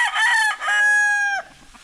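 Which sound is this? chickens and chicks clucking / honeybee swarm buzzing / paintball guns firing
chickens and chicks clucking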